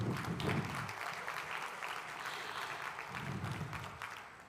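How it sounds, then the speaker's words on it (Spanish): An audience gives applause for a woman named Juliana at a gathering, a soft, steady patter of many hands at a distance, fairly quiet and uninterrupted. "le damos por favor un aplauso a Juliana"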